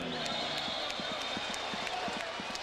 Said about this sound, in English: this big crowd in Memphis, which came to root for Roy Jones, is applauding Glen Johnson